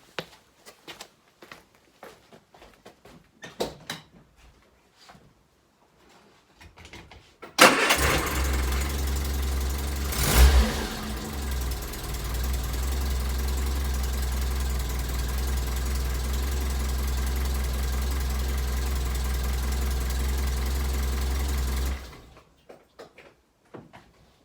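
An Austin Allegro's engine cranks and fires, then settles into a steady, rumbling idle that runs for about fifteen seconds before it stops, with a few faint clicks and knocks before and after.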